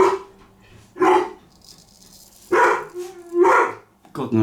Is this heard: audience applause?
no